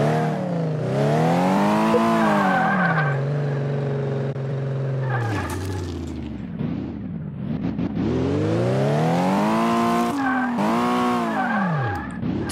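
Engine in Car Mechanic Simulator 2018 revs up and down in long sweeping swells, joined by a loud tire skid and squeal during a handbrake turn; steady, close and continuous with no talking.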